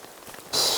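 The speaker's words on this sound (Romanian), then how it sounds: "Plouă de rupe." Heavy rain suddenly pours down in a downpour in Norway, a loud, dense hiss of drops drumming on surfaces that starts abruptly partway through and continues close by.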